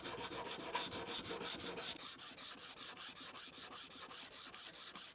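Hand sanding the wooden handle of a Damascus chef's knife, a steady back-and-forth rasping rub in quick even strokes, close and alone.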